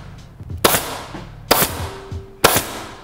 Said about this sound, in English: Then I'll come on this side and shoot about 3 staples.